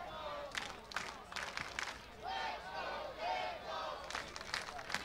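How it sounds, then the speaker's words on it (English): The home crowd at a Portland Pickles minor-league baseball game cheers on its team, a broad roar with scattered shouts and clapping that swells and fades in waves throughout, heard from a distance. "Home crowd egging on the Pickles."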